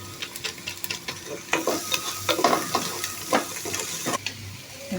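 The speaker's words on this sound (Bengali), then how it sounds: "এখন এই যে টমেটোগুলো দিয়ে একটু নাড়া দিয়া বাদগুলো দিয়ে দেবো।" Tomatoes and mixed vegetables sizzle and fry in a pan for egg fried rice, with the spatula stirring in repeated scraping strokes throughout, close and clear.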